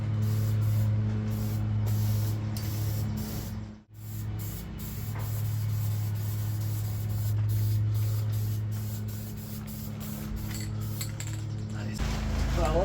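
Aerosol can of rust converter spraying onto the heavily rusted body of a Ford Super Duty pickup: a continuous close hiss with short pauses and a brief break, over a low background drone.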